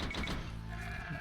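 A sheep bleats in the real-time strategy game Age of Empires II, a short wavering cry, fairly faint, heard alone without any speech.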